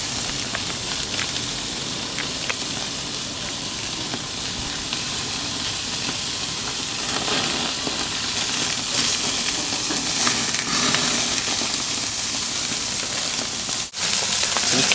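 Steaks and sausages on a hot Aussie barbecue grill, sending up a loud, continuous broadband sizzle that stays steady and close throughout, with a brief tap near the end.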